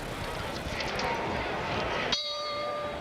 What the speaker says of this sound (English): The bell in round 3 here at the Alamo Dome in San Antonio, Texas.